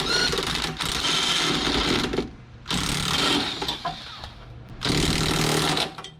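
An impact wrench with a 14mm socket rattles in three loud, close bursts separated by short pauses while fitting a 2.5-inch leveling kit on a 2011 Chevrolet Suburban.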